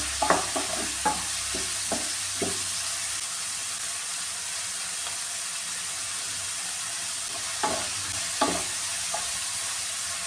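Ingredients for pepper chicken sauté in a hot pan with a steady sizzle, while a spoon scrapes and stirs in clustered strokes early on and again near the end.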